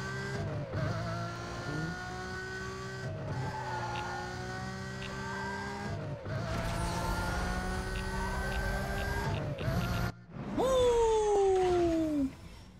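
Lamborghini Murcielago engine in the Need for Speed: Most Wanted video game, loud high revving that climbs through repeated gear shifts, with brief drops between gears and a final rising whine near the end.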